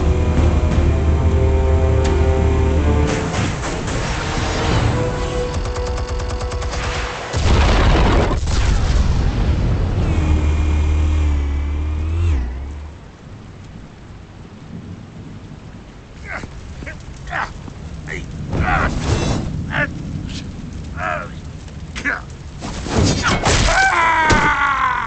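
Explosives detonating in Batman: The Telltale Series, heavy booms and rumbling blasts mixed with tonal score, loud at first, then a quieter stretch before further sharp bursts.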